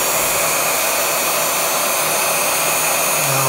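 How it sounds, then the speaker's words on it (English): A 1500-watt heat gun's fan runs on its low setting, powered by a Ryobi 40V 1800W power station: a steady, loud broadband whoosh with no pauses. "I'm gonna try the heat gun test, see how this goes. So that's just the fan."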